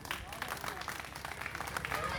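Audience clapping at an outdoor poetry recital on a dais in Lawana, Pratapgarh, a thin, steady patter of scattered hands that never builds into full applause.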